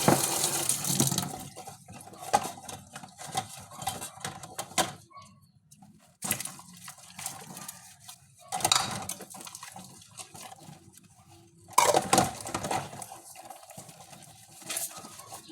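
Plates being washed under a running tap after a meal, with water splashing and gushing in bursts broken by short quiet gaps, close and fairly loud, no talking.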